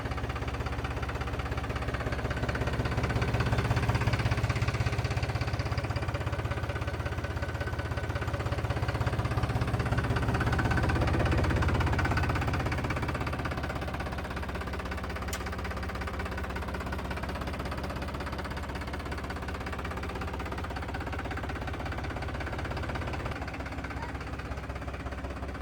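A 2005 Mahindra 575 tractor engine runs at a steady idle, its low, even rumble holding constant with a faint mechanical knock and no talk throughout.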